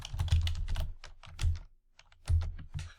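Close, crisp computer keyboard typing comes in three quick bursts of clacking keys separated by brief pauses, the last keystrokes trailing off, with no talking.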